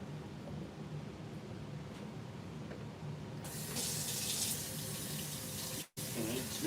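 A kitchen tap runs into a pot being filled with water for boiling corn, a steady rushing stream that grows brighter and louder partway through and cuts off briefly near the end.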